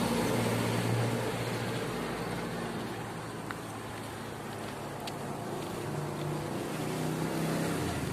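A continuous wash of road traffic rumbles past outdoors in the Philippines, with many vehicles blending into a steady broadband roar at moderate distance and no distinct passes or voices.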